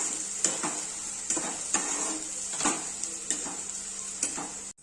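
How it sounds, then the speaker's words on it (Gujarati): Onions sauté in a pan for pav bhaji. A steady, close sizzle runs throughout, broken by regular spoon-stirring scrapes roughly every second, and no one speaks. "હવે આપણે અંદર ડુંગળી નાખી દઈશું અને બેને બરાબર સાતરી લેવાનું છે।"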